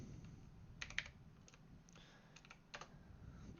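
Typing on a computer keyboard, a few quiet scattered key clicks in short irregular bursts over a soft background hiss, close but faint.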